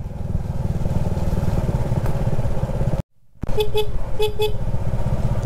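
A vehicle horn honks loudly and repeatedly in short bursts on a windy road during a typhoon, over a continuous engine rumble, after a brief dropout.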